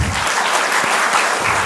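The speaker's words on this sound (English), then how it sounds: "A big round of applause to them." Dense, loud applause from a conference audience at a forensic science meeting, a continuous wash of many hands clapping close together.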